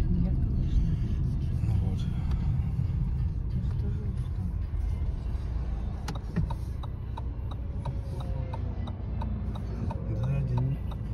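A car pulls away and drives along a street, its low steady road rumble and engine noise running throughout, with people talking inside over it.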